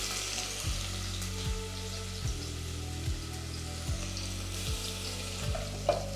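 Spices frying in hot oil for sambar sizzle steadily with a crackling hiss, with soft low knocks now and then as the pan is stirred.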